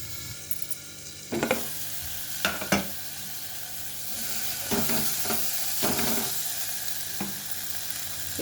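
Bottle gourd pieces frying in tomato masala for a sorakaya curry, a steady sizzle broken by several sharp stirring scrapes and clinks of a spoon against the pan.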